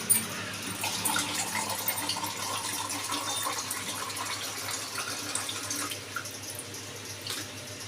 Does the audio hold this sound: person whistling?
no